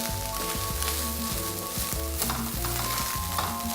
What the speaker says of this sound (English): So the tomato puree is now cooking into the vegetables and the mince together